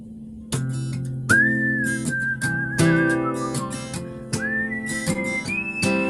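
A person whistles the melody of a song, clear and steady with gliding sustained notes, over chordal accompaniment, close and fairly loud.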